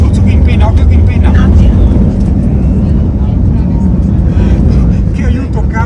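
Motorcycle engine revving hard and pulling away, loud and close with strong rumble and wind noise throughout, the rider's own bike on a ride in Tenerife, with people talking over it.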